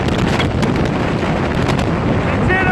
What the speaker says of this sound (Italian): vento boia qua che non riesce neanche a stare in piedi